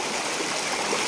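Water runs steadily in a stream near a grandmother's house during a Diwali fishing trip, a continuous close rushing and babbling flow with no talk.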